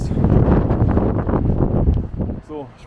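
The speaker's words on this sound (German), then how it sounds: "weil hier geht der Wind" Strong wind buffeting a microphone on an exposed hilltop by a hillfort, loud and continuous rumbling gusts that ease near the end, with a brief voice heard at the close.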